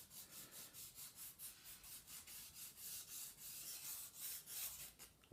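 Rough file gently worked across the edge of a Linka model roof section, a steady run of about twenty rasping back-and-forth strokes, close and quiet, with no talking.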